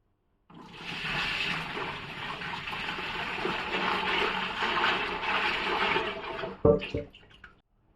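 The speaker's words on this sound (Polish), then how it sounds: "rozpuszczony cukier w wodzie, czyli tak zwany syrop cukrowy i wychłodzony przelewamy do naszego zbiornika fermentacyjnego" Cooled sugar syrup gushes steadily from a container into a fermentation tank for homemade wine, a close, continuous pour lasting several seconds before tapering off with a few final splashes and knocks.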